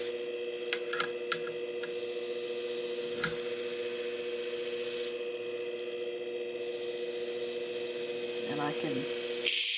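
Continuous gritty rubbing and grinding as a pair of shears is sharpened on a knife sharpener, steady and close with a few sharper clicks and a brief spoken phrase.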